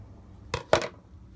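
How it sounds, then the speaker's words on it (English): Scissors snip through tulle wrapped around a DVD case form, cutting up along its spine: two quick, crisp cuts close by in an otherwise quiet room. "you're going to take your scissors, go up the spine of the DVD case, and just cut the tulle"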